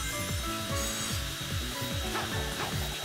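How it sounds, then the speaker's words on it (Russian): Spinning saw blades in the Sonic Generations video game give off repeated whirring, sweeping mechanical swoops in a steady rhythm, layered over continuous game sound with no talking. "Вот эти пилы я помню со времен Team Sonic Racing"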